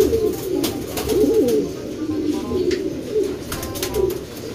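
Several pigeons in a loft coo in low, rolling repeated calls close by, overlapping one another with a few faint clicks and rustles behind.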